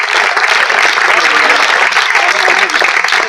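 A crowd at a Hindi kavi sammelan poetry event breaks into loud, dense applause that continues throughout, with a voice faintly audible beneath it.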